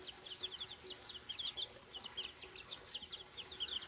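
Young chickens hatched at school, descended from brown hens, give soft repeated clucks and peeps in quick irregular bursts, faint and close, over a low background hum with no talking.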